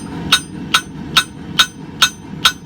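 Six evenly spaced ringing hammer strikes from a cross peen hammer on hot steel, spreading the blade of a small forged Viking axe pendant on an anvil, each blow sharp and close with bright metallic ring.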